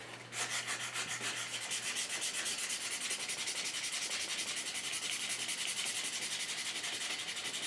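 Rhythmic back-and-forth sanding on an English walnut gunstock for an HW80 air rifle, a quick steady rasping scrape repeated throughout at close range.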